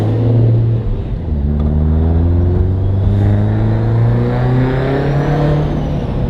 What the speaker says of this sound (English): It is so loud that, especially the turbo noise, has everyone you're driving next to just staring at you.